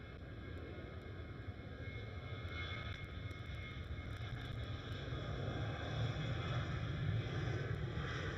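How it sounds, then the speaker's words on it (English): KLM Boeing 737 departing Schiphol runway 24, a distant steady jet engine roar that slowly swells in loudness, with a faint high whine and some wind noise. "That was a KLM 737 departing on runway 24."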